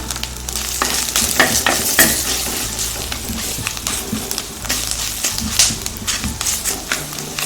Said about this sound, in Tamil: இதெல்லாம் நல்லா வணக்கிக்கலாம்